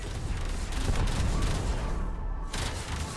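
A detonation in the video game Warframe, heard as a dense, rumbling burst of explosive crackle that fills the whole stretch with little pause, loud and close, with no voices.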